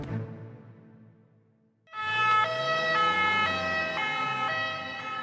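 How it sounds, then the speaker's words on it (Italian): An ambulance siren wails loudly and steadily in Warsaw, rising and falling in a repeating pattern, starting suddenly after a moment of quieter street noise. "Le sirene delle ambulanze a Varsavia risuonano come mai era successo nei mesi scorsi"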